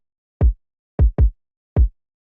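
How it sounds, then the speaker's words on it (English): Four punchy, boomy kick drum hits from a layered OZ kick and rack kick sample sound alone in an uneven pattern, each with a deep low-end thump and a quick decay. "we're layering in the rack kick"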